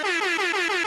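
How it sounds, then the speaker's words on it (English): Air horn sound effect, one loud, brassy blast held steadily for under a second. "Air horns for that."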